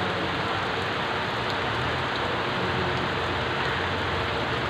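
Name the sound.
rain falling in the garden of the Aguinaldo Shrine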